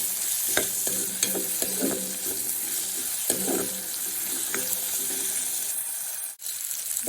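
Water spinach (kangkung) stir-fries in oil with chillies in a pan, producing a close, continuous sizzle broken by repeated sharp scrapes and clicks of a utensil stirring; no one speaks.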